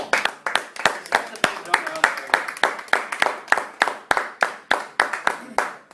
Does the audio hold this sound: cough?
no